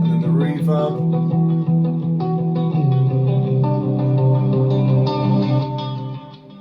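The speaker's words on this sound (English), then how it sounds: "this reverb swell that basically makes the guitar sound like it's just gone into a massive cathedral" Electric guitar chords ring out and bloom into a washy reverb swell, sustaining like a huge hall before the sound fades away.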